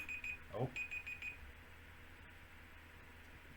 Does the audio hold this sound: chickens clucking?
no